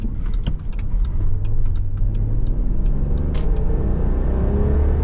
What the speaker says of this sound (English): But it still has that V6 engine, glorious sound.